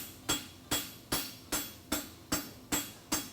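A blacksmith hammers an aluminum bar shoe, scarfing its edge: eight sharp, evenly spaced metallic blows ring out about every 0.4 seconds, close and clear with no talk.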